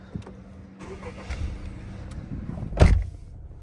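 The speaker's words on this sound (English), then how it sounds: "Start up the car." A Honda Accord Sport 2.0 starts up with a short, loud crank-and-catch burst near the end, after a stretch of quieter cabin and mechanical noise from inside the car.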